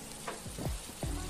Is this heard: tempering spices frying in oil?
yes